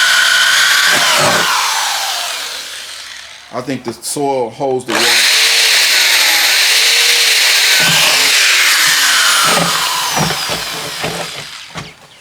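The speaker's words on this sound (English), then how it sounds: "we're gonna let him drill this" A power drill whines loudly and continuously up close while drilling a garden container, pausing briefly while someone speaks, then drilling resumes and gradually tapers off.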